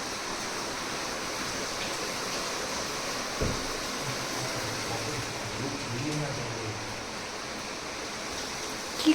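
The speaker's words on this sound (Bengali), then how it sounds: "বেডরুমেও জল ঢুকে গেছে।" Flood water from a cloudburst pours into a bedroom as a continuous broadband rush, steady and close, with a short thump partway through.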